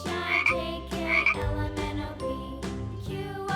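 Repeated deep frog croaks in short bursts, about six over a few seconds, each with a bright tinkling ring on top.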